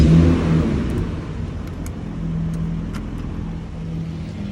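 A truck engine runs after starting, a low steady hum with a slight rev at first, settling into an even running drone at moderate distance.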